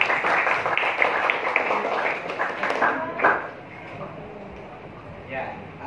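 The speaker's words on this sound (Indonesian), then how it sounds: "tepuk tangan untuk Adit" A classroom of students applauds Adit, bursts of clapping for a few seconds under a voice before fading into quieter talk.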